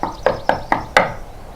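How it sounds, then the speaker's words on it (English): Five sharp, evenly spaced knocks on a wooden door, close and clear, the last one slightly louder. "called Daddy Pig, knocking on the door."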